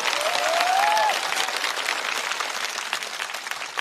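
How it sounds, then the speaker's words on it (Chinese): A stand-up comedy show audience applauding a comedian, loud and continuous clapping from a full room, with a brief whistle-like tone near the start. "掌声再次送给豆豆"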